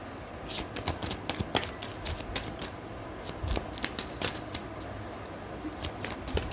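Tarot cards shuffled by hand during a career reading: rapid papery flicks and riffling clicks in an irregular stream, close and continuous throughout.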